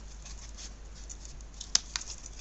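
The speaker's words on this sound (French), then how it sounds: "Il va falloir vraiment que je me trouve des ciseaux qui coupent." A couple of faint, quick snips of scissors closing, isolated clicks over a quiet background hiss.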